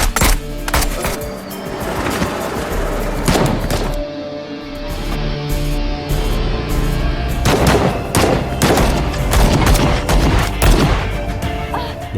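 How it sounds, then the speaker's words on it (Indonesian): Gunfire crackles through a crime drama shootout, with rapid bursts of shots and heavy thuds over a loud, busy soundtrack, briefly thinning before more volleys ring out. "Aksi baku tembak pun terjadi."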